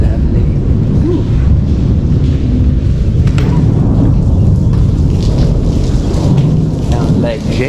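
Heavy rain pours steadily, with deep thunder rumbling through it at close range.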